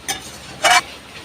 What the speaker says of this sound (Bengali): এইভাবে কষাতে কষাতে চিকেনটা অনেকটা সেদ্ধ হয়ে যাবে